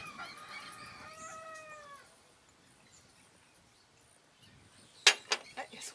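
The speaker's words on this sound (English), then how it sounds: "Noisy rooster." A rooster crows once, a rising then falling call at moderate distance in a quiet setting, followed by a few sharp knocks.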